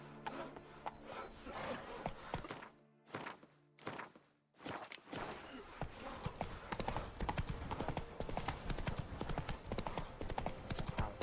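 A horse's hooves clip-clop at a walking pace in the video game The Witcher 3, with a few brief pauses and thuds, then a steady rhythm resuming, near and moderately loud.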